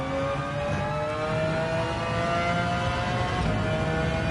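A McLaren F1 GTR racing engine in Gran Turismo 7 at Le Mans drones loud and steady, its pitch climbing gradually as the car accelerates.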